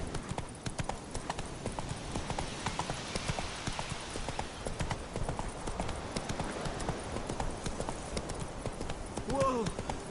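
Hooves of the horse Roach in the video game Witcher 3, a steady, rapid clip-clop of galloping with a brief whinny near the end, running under speech.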